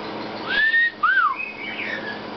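A pet bird gives a few clear whistled notes: a long level tone, then a short rising-and-falling note, with faint soft calls after, close by in a quiet room.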